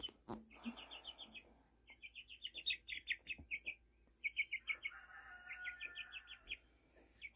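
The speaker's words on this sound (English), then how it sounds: "Singing like a little bird." Chirping bird calls on a farm come through a window in repeated quick bursts, fairly close and clear, with rooster-like and clucking fowl sounds mixed in.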